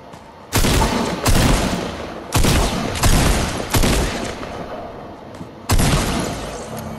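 Loud, close gunshots in a one-on-one video game match, fired as a series of sharp bursts with short gaps between them and a longer pause before a final blast.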